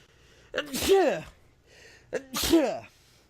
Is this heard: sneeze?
yes